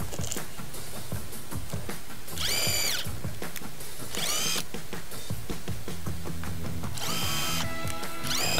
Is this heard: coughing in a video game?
no